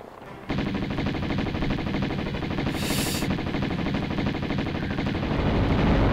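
Sustained rapid Uzi fire in the Tomb Raider video game, a dense unbroken rattle of shots that starts abruptly and keeps going steady and loud to the end with no talking.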